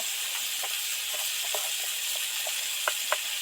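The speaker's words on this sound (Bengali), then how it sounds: "ভালো করে তো ভাজাই হয়ে গেছে সবজি থেকে তেল ছেড়ে গেছে" Ivy gourd frying in oil in a village-style kitchen gives a steady, close hiss of sizzling, with scattered small pops and a couple of sharper crackles toward the end.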